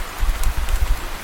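A cartoon rain effect gives a short, dense burst of heavy downpour, a steady broadband wash with a low rumbling undertone, loud and close for just over a second.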